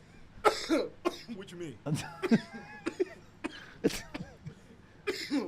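Several harsh coughs land close to a microphone in a chatty podcast setting, coming in irregular bursts, loud and near, with people talking between and over them.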